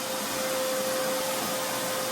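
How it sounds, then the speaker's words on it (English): A shop vacuum drones steadily at close range, a constant whine and rush of air as it cleans up a mouse nest in a 139-year-old Victorian house being renovated. "we need the shop vac"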